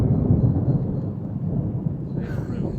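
Deep, rolling thunder from a rainstorm near a colliery spoil heap in Derbyshire, heard from inside a car as a loud, sustained low rumble, with a brief brighter crackle near the end.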